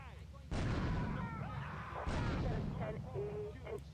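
Two heavy shotgun blasts in Grand Theft Auto III Definitive Edition, about a second and a half apart, each a loud booming burst with a long rumbling decay, followed by smaller game effects.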